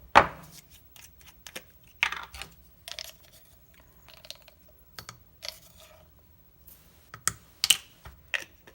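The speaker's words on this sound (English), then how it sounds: "I only have the whole seeds, so I do grind them" Irregular dry crunching and clicking bursts come close and fairly loud with quiet gaps, whole fennel seeds being ground by hand in a kitchen.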